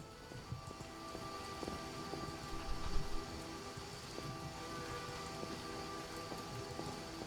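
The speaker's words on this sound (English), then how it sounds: "Oh, this is really heavy rain," Heavy rain in the video game The Witcher pours steadily and densely throughout, with a faint rumble of thunder swelling briefly near the middle.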